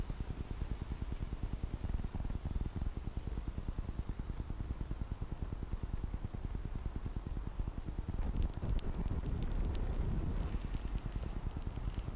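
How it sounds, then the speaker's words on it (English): Wind blows steadily across a microphone outdoors during a backyard fire-lighting attempt, a continuous low rumbling buffet throughout, with brighter crackly bursts near the end. "Just the wind blowing it out."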